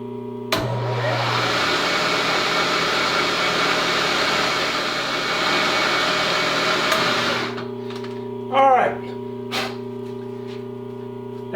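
A machine cutting metal while restoring a 1905 double-barrel shotgun: a loud, steady whine runs for about seven seconds and then stops abruptly. Brief squeaks and a clunk follow, and no one speaks.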